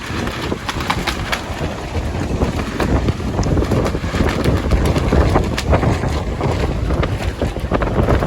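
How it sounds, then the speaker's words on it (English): A sailboat line on a 25 ft yacht flaps in steady wind, a continuous rapid fluttering and slapping under heavy wind rush on the microphone, with no voices. "Flapping in the wind. Line that is."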